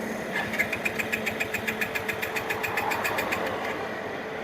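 A TVS Apache RTR 160 4V motorcycle cranks without catching, its starter churning in a steady, rapid series of even pulses over a mechanical whir, close and fairly loud, with no voices.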